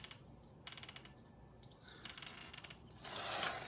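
A socket ratchet works the oil drain bolt on a Honda TRX450R four-wheeler, giving faint, quick bursts of metallic clicking with short gaps between them, followed by a brief hiss and a clink. The sound is quiet and close, with no talking.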